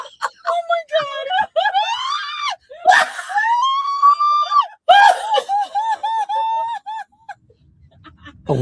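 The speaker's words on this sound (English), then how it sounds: "She screamed as the vehicle crossed the road, narrowly missing other vehicles." A woman screams repeatedly inside a Waymo self-driving car in Tempe as it turns onto a road into oncoming traffic. The shrill, close cries come in several long bursts with short gaps between them.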